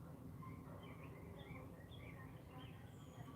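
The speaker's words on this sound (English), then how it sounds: "the birds are still sound great" Birds chirp and sing outdoors around a front porch, short scattered calls repeating over a steady low background hum.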